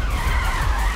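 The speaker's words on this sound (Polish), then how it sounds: "Za chwilkę pokażę wam, jak Sesto Elemento startuje." A Lamborghini Sesto Elemento launches hard in the racing video game Need for Speed Rivals, its tires screeching and skidding over a loud, steady engine roar in one brief, continuous burst.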